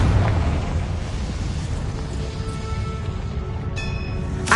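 A Confringo blast spell in Hogwarts Legacy detonates at the start with a deep boom, followed by a long rumbling, crackling aftermath inside a mine, fading slightly with faint chimes near the end.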